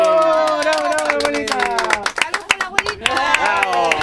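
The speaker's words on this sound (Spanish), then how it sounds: "Ya, un aplauso." Applause at a family birthday party for a 112-year-old grandmother: close, loud, rhythmic hand clapping from several guests, with excited voices and cheers overlapping, briefly thinning midway before picking up again.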